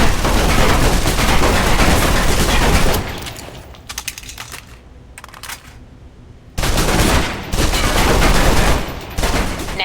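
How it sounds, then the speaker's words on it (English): A submachine gun in the game Alpha Protocol empties its magazine in long, loud continuous bursts, with a brief lull of scattered shots in the middle before firing resumes. "Now, let's move on to the submachine gun. I'm keeping this gun. Now let's empty the clip."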